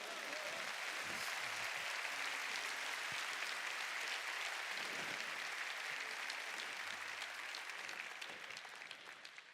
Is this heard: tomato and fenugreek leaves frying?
no